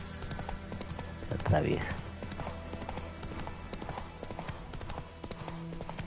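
A horse's hooves clip-clop steadily in the video game The Witcher 3, a fairly close, even rhythm running throughout while a person talks over it.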